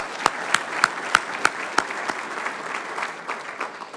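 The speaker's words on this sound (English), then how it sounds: "Let's give him a round of applause." An audience at an agricultural summit claps, with a few sharp, evenly spaced claps standing out above a softer, scattered applause that tapers off.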